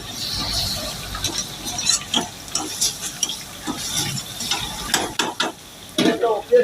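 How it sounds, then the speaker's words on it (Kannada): Fish frying in a pan, a continuous hiss of oil under repeated scraping and clinking stirring strokes, close and fairly loud, with no speech. "ಇಲ್ಲಿ ಮೀನನ್ನು ಫ್ರೈ ಆಗ್ತಾನೆ ಇದೆ."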